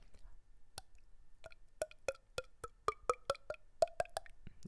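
A mouth-made imitation of whisky pouring: a voice producing a string of sharp tongue clicks and liquid plops that speed up into a rapid glugging rhythm, close and clear with no talking.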